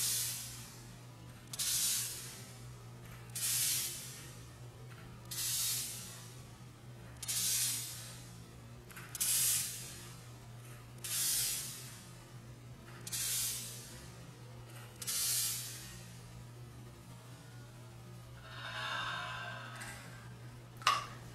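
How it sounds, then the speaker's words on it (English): Urban Decay All Nighter setting spray mists out in about ten short, soft hissing bursts at a steady pace, close and faint over a low background hum. "For my setting spray, I use the Urban Decay All Nighter."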